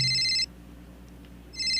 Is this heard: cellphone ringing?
yes